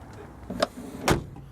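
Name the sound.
old car door shutting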